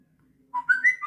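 Samsung Galaxy's 'Whistle' notification alert: a quick series of bright, whistle-like electronic chirps sliding upward in pitch, sounding close and clear after a moment of near silence.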